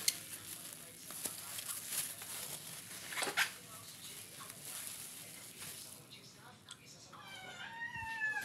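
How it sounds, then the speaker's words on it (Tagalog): A pet cat begging for food lets out a couple of high, wavering meows toward the end, moderately close, amid faint kitchen noise while someone cooks string bean adobo. "Nangihingi talaga itong pusa ko."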